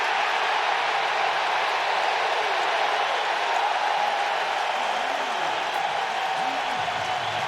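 A baseball stadium crowd cheers steadily during a Yankees vs Royals ALDS playoff game, a dense, continuous roar of many voices with a commentator's voice faintly over it.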